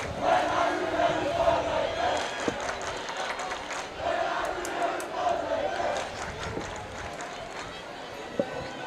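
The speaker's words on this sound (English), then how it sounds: "our crowd mic, you can hear them chanting down there." Fans at a boys' high school lacrosse game between Lake Oswego and West Linn chant below, picked up by a crowd mic: a distant, swelling roar of many voices in rhythmic waves, with a commentator talking over it.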